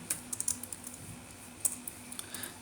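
Code is typed on a computer keyboard in a quick, uneven run of light key clicks, close and clear, with no talking.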